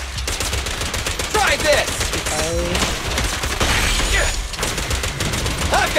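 Video game gunfire in Zenless Zone Zero comes as rapid, loud bursts of automatic shots layered with clanking action effects, while a character briefly calls out over the shooting.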